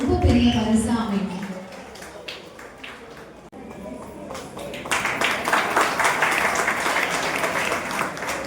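After a stretch of talking, an audience at a Bharatanatyam dance recital breaks into loud, sustained applause for the performers.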